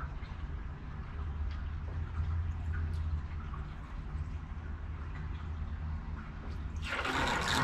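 Water swirling and draining down a plumbing drain, a steady low gurgling rush that continues throughout with a brighter splashing surge near the end.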